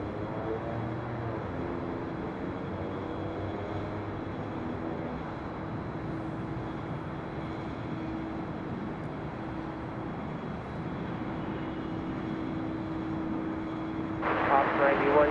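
An airliner on short final to runway 25 left at LAX, heard from high above as a steady broad jet roar with a low engine hum, joined near the end by a brighter rising rush.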